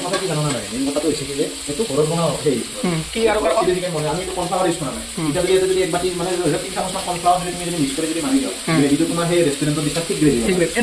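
Steady sizzling of paneer frying in a pan on a small home burner runs throughout, with a person talking continuously over it.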